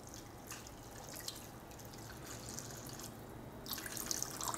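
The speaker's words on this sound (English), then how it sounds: "Now we can add water." Water being poured into a Bengali lau kofta curry (bottle gourd dumplings), heard as a soft, steady trickling and dripping splash with no talk over it.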